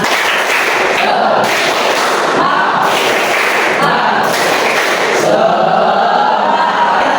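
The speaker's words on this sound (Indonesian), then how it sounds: "Oke boleh, tepuk semangat" Junior high school students in a classroom perform a rhythmic spirit clap in unison, dense bursts of clapping repeating in patterned groups, loud and close.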